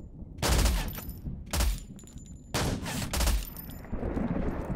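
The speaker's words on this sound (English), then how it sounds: "Shotguns do some damage," Shotgun blasts in Zero Sievert boom out in four heavy, evenly spaced shots, each with a loud low thump and a short decaying tail over steady game background noise.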